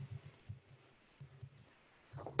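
Calculator keys being pressed in a quick series of soft low clicks, grouped in short bursts with a pause in the middle, ending in a louder clatter.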